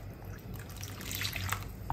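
Water is poured into a thickening pot of food while cooking, making a soft, steady trickle and splash at low volume.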